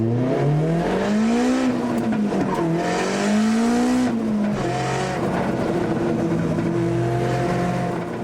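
V8 drift car on a judged lap, loud engine revving and bouncing between high and low pitch as it accelerates and lifts, with tire squeal and skidding throughout, close and continuous.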